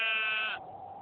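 A single sheep on a farm gives a loud, close bleat lasting about half a second, then quiet background.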